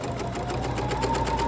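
A sewing machine runs steadily, stitching a straight seam on a folded fabric wallet, with a fast even needle rhythm that holds close and loud throughout.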